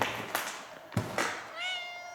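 A cat meows once in a haunted hospital setting, a rising, tonal mew near the end, preceded by scattered soft knocks and rustles over a hissy background.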